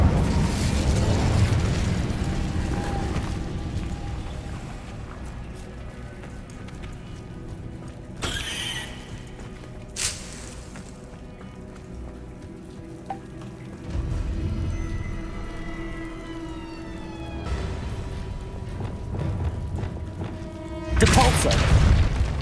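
A burst of spell effects from the Incendio fire spell in Hogwarts Legacy, with whooshing blasts and crackling among ongoing game combat noise and music, including a loud final eruption.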